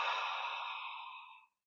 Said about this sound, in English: So when you breathe out, you make the heart sound.